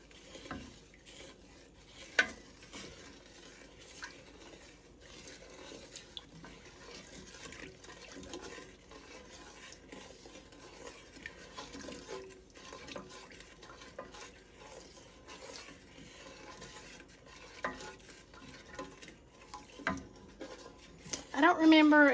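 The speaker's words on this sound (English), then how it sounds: "we're going to bring this to a boil and get it mixed together" A sugar mixture for cowboy candy heats in a pot, with a soft, faint bubbling and hiss under occasional spoon scrapes and clinks against the pot, quiet throughout with a louder knock near the end.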